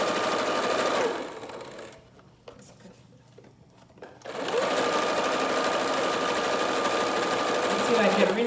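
A sewing machine running a straight stitch chatters rapidly and steadily, pauses for about three seconds with only a few light clicks, then resumes its fast even whirr, while a person talks over it.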